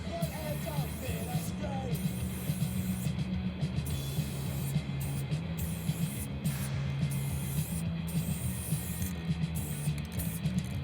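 A steady, continuous hiss of spray from a spray paint can with a fat cap, broad and airy, lasting throughout with a low hum beneath it.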